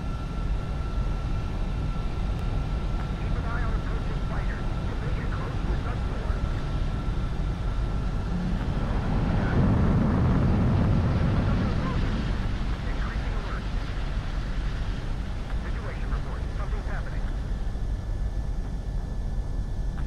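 A fighter jet spools up and roars down the runway for takeoff in Ace Combat, a dense, steady engine rumble that swells toward the middle, with radio chatter over it.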